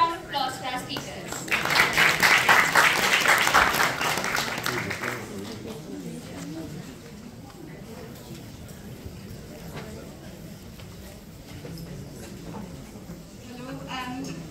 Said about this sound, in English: Please can we have a round of applause for our speakers.